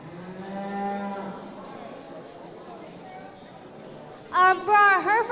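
A heifer at a youth fair purebred beef show lets out a long low moo, then later a louder, higher bellowing call, with people talking nearby in an indoor arena.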